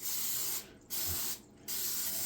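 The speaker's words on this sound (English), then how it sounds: "I'm gonna spray it just to keep everything from sticking" A can of non-stick cooking spray hisses in long, steady bursts over a 9x13 pan. Three sprays are separated by two short pauses, close and fairly loud.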